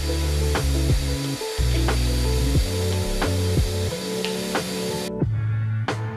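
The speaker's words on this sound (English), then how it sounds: "I cut out the circle with a jigsaw, staying a little proud of the line." A jigsaw drones steadily through wood, cutting out a round tabletop, with repeated short surges as the blade bites in, then a brief drop near the end.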